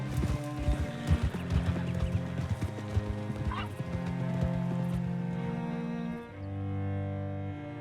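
Steady clip-clop of hooves with a horse whinnying, layered over a droning musical score in the Red Dead Redemption 2 soundtrack.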